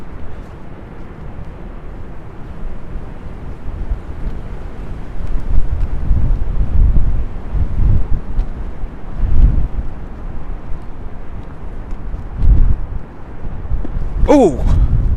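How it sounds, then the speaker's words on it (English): Strong gusts buffet a camera microphone outdoors on a New York City street in January, a steady low rumble swelling into heavier thumps at intervals, with a brief higher whistle near the end. "it's so windy right now. I'm not sure how my camera is gonna hold up in the wind."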